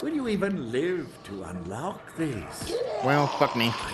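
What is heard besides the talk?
No everyday noise stands out behind the speech.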